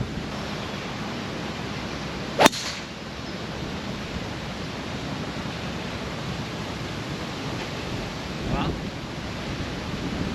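Strong wind gusting across an oceanside golf course on an Indian Ocean island, a steady broad rush with a sharp buffeting thump early on and a softer gust near the end.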